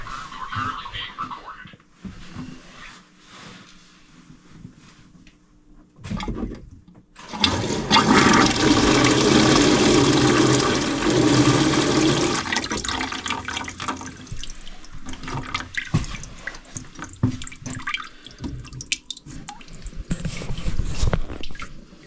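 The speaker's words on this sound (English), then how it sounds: "I'm going to go turn on the cold water, and we're going to make sure that we actually have good water pressure coming out of here" Cold water gushes from a shower line into a bucket on a skoolie bus build, a strong rushing pour that starts suddenly partway through and runs on with some variation, after quieter handling noises.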